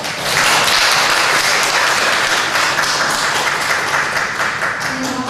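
A church congregation at a Sunday worship service breaks into loud, dense applause that starts abruptly and continues steadily for several seconds.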